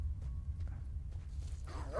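Dogs in STALKER: Shadow of Chernobyl, faint yips and whimpering barks at a distance over a steady low rumble, growing a little louder toward the end.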